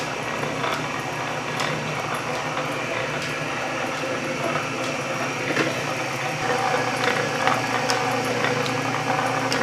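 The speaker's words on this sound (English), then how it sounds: "Even those straight cut gears aren't too loud and clanky." Straight-cut gears turn in a Canedy-Otto drill press, giving a steady, moderately loud mechanical whir and hum with faint rhythmic clicks, running continuously without talk.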